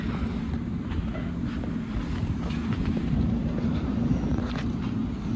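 A train rumbles steadily through a Long Island Rail Road station in Nassau County, New York, with a low heavy roar, faint rhythmic clacks and some wind buffeting the microphone.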